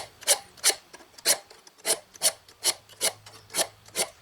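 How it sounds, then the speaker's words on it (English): About a dozen even, rhythmic rasping strokes scrape along a blade edge during sharpening, each a short gritty pass, close and clear with no talk. "You can feel it dragging, it's got resistance, it's straightening out that, smoothing out that blade edge."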